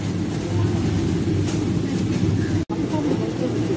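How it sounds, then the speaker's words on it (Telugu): A train on the Sabari Express route from Secunderabad to Trivandrum passes close by with a loud, continuous rumble and rush of wheels on track, broken by a momentary dropout. "సో ముందు నుంచి ఒక ట్రైన్ వెళ్తుంది"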